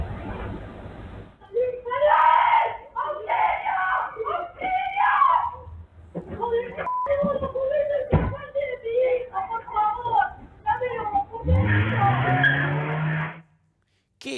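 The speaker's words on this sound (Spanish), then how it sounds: "Ahora presten atención a los gritos y al terror que le tocó vivir a esta familia." A terrified family screams during an attack in a raw recording: shrill, strained cries and shouting run almost continuously and overlap with harsh rasping tones, loud and close, before cutting off abruptly.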